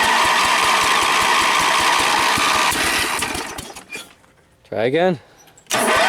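Small go-kart motor that has sat unused for a long time, running loud and steady with a sputtering, pulsing drone, then cutting out to near quiet before short bursts as it is restarted, with people talking nearby.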